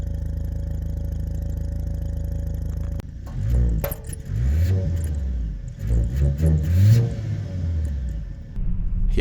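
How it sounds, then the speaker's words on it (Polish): A 2025 Volvo XC90 B5 AWD, its 250-horsepower four-cylinder engine droning steadily, then pulling away with a low, burbling, slightly flatulent exhaust note that swells and dips with throttle over several seconds. "posłuchajcie jak śmiesznie pracuje wydech"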